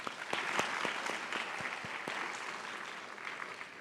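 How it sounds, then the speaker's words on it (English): An audience at the URI Honors Colloquium applauds its sponsors with dense, steady clapping. Some individual claps stand out near the front, and the applause holds at an even level throughout with no voices on top. "I would like you to give them a round of applause"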